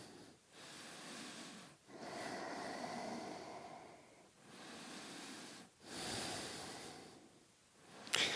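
Slow, audible breaths exhaled through the nose and mouth during a yoga forward fold, with several long hissing exhales separated by brief pauses, close and steady, no talking.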